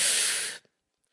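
A single forceful breath rushes out through the mouth during a breath-work exercise, an airy hiss lasting about half a second before cutting off to silence.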